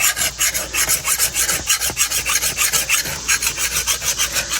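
A hand file sharpens a steel lawn mower blade in quick, even back-and-forth rasping strokes, about five per second, close up and continuous with no talking.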